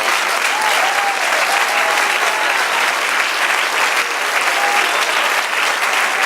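Steady, dense applause from a church congregation fills the space, many hands clapping evenly at a constant level with faint voices beneath.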